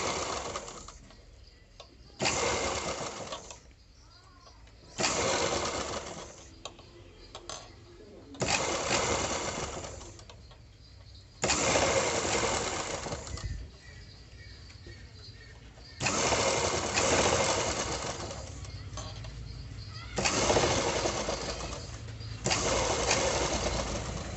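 A sewing machine stitches thread piping onto a blouse, running in repeated loud bursts of a second or two, separated by quieter pauses, across about twenty-four seconds.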